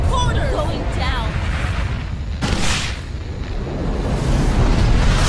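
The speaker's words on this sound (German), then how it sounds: "Was für eine geile Explosion, ey." A rumbling video game explosion booms and roars with a burst partway through, loud and sustained, while a voice talks over it in German.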